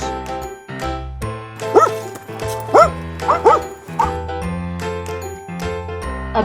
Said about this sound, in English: A dog woofs.